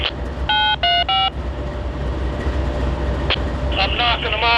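A Norfolk Southern train passes at Nemo, Tennessee with a continuous loud rumble, while a series of bright horn-like tones and beeps ring out over it.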